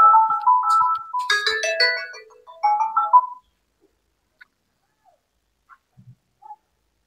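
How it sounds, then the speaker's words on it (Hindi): Mobile phone ringtone for an incoming call plays a bright, melodic chiming tune for about three seconds and then cuts off, leaving near silence with a few faint clicks. "मेरा भाई का फोन आ गया था"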